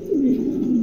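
Bokhara pigeons, a black male and a deep-coloured Andalusian female, give a close, steady cooing that rolls on without a break for just under a second, with no other sound around it.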